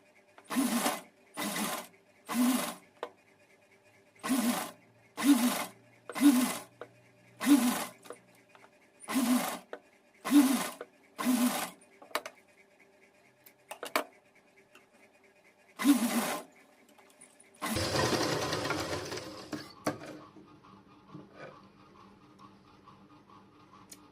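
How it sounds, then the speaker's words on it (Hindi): A sewing machine stitches a cotton two-in-one dress, running in a dozen short even bursts separated by pauses, close and clear, then a longer noisy rustle near the end; no talking. "इनको आपस में इस तरीके से रख के एक दूसरे पर उल्टा रख के और ये सिलाई लगा लेंगे"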